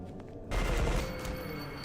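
Gunfire in the E.Y.E Divine Cybermancy game, a sudden dense burst of rapid shots starting midway and rolling on with echoing, noisy roar at moderate level, no talking.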